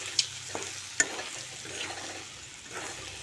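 Ginger and garlic sizzle and fry in hot oil for an Assamese-style pork dish, a soft steady crackle with a few sharp taps of a spoon stirring the pan.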